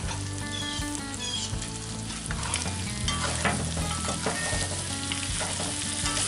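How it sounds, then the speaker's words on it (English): Shrimp dusted in flour, with mushroom and chives sprinkled over, sizzle loudly in a hot pan as they are stirred, a steady dense frying hiss with scattered scraping knocks from the utensil throughout. "we're going to stir them around a little bit"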